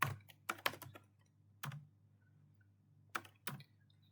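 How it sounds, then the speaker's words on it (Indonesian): Typing on a computer keyboard in an Ubuntu terminal, short bursts of close, crisp key clicks separated by quiet pauses, with a low electrical hum underneath. "kita ketik PS1, lalu tanda petik"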